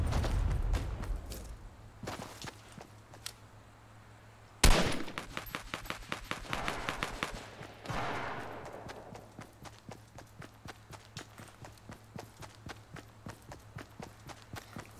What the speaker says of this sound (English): Thought I heard shots over here.